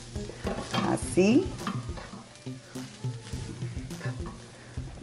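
Salted, seasoned meat sizzles in a pan while being stirred with a utensil, a steady frying crackle broken by scraping stir strokes close by, and a voice briefly speaks over it.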